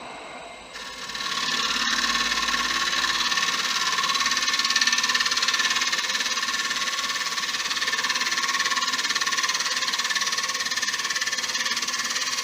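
A wooden bowl turns on a lathe while a gouge cuts it, giving a steady, close whirring hiss that holds even throughout with no speech.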